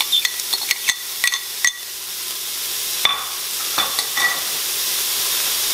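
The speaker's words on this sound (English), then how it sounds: "You hear that sizzle, huh?" Onions sizzle steadily in a hot Instant Pot, a bright continuous hiss broken by a few sharp clinks and scrapes of stirring.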